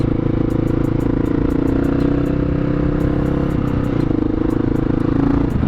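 A 2008 Honda XR650L big single-cylinder motorcycle rides loudly around an estate, its steady engine thrum continuous and close throughout, with a rattly clatter on top and no talking.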